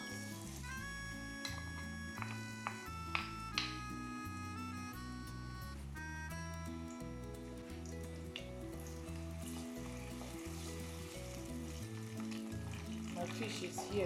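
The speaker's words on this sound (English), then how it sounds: "I'll be frying my stew over here." Chopped onions sizzle and fry in a pot for a fish stew, a steady crackling hiss under music, with occasional stirring clinks and scrapes.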